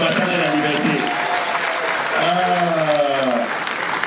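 Applause from wedding guests at a Cameroonian-style marriage celebration, steady and dense, with voices talking and calling out over it throughout.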